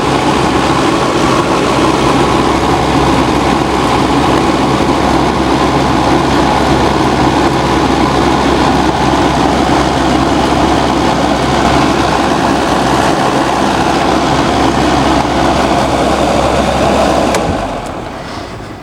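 A QuietCool ES2250 whole house fan runs in an attic with a steady, loud, broadband whoosh and low hum. It holds constant and close for most of the stretch, then fades out abruptly near the end.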